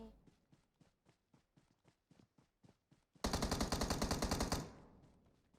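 An M16A4 rifle fires in PUBG Mobile, first as a run of about a dozen evenly spaced single shots, then a loud rapid automatic burst lasting over a second before it fades.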